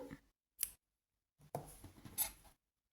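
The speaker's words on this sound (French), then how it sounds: "Je coupe mon fil" Scissors snip through crochet yarn in a few short, sharp cuts, heard close and alone against near silence.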